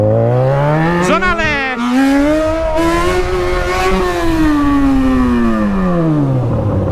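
A Yamaha XJ6 motorcycle with a broken exhaust revs hard, its loud, close engine tone climbing and falling in pitch through several sustained pulls without a break.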